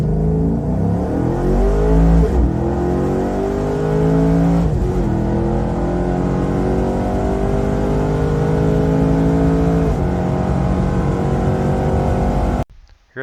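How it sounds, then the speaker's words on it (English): Twin-turbo cop car with stage 2 boost cam, CNC heads, long tubes and 3-inch exhaust accelerating hard, a loud close engine climbing through gears with rev limiter taps at shifts, then cutting off abruptly. "Hear that rev limiter tap on the 2-3 shift?"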